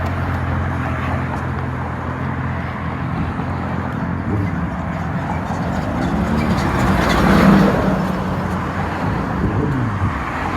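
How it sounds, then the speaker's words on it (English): Steady road traffic on an urban street rolls past in a continuous wash of car and engine noise, swelling slightly as a vehicle passes close, with no talk. "the traffic's clearing"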